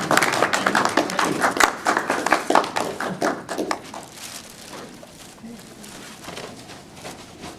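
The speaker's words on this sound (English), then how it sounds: "can we show them a round of applause, please?" Scattered applause from a small audience at a school board of education meeting, a few seconds of close, uneven hand clapping that tapers off into room quiet.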